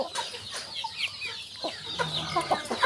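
Several four-to-five-month-old chickens cluck and chatter nearby in short, irregular bursts, with one or two sharper squawks.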